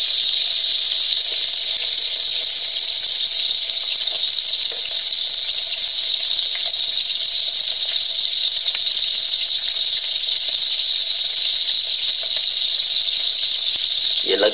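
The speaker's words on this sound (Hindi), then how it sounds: "इसे थोड़ा और फ्राई करना है" A layered chocolate paratha dessert, flaky like puff pastry, fries at a Chandni Chowk street-food stall, giving a loud, steady, unbroken hiss of hot oil that runs the whole time with no pauses.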